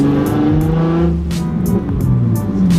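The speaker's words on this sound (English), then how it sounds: "we're driving it around to see how much louder it is" Gutted Nissan 350Z stripped of its insulation and trunk plastics, engine droning loudly from inside the cabin as it drives and revs, with the pitch rising and falling continuously and no talking.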